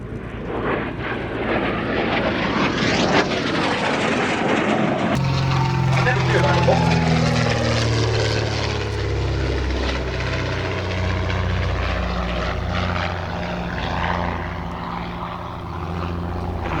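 A Canadair F-86 Sabre jet fitted with a display smoke generator roars past with a rising then shifting engine whine, loud and sustained, while someone speaks over the noise.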